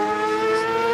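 Racing sidecars at Goodwood accelerate onto their flying lap, a sustained high-pitched engine whine with strong steady harmonics, loud and close, holding throughout without any talk.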